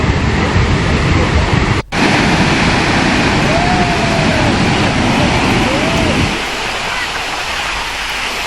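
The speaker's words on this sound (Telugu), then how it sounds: "ప్రాజెక్టు 26 గేట్లు ఎత్తి నీటిని దిగువకు విడుదల చేస్తున్నారు." Water surges through the 26 opened gates of the Nagarjuna Sagar dam, a loud, unbroken roar of rushing water that drops slightly in level toward the end.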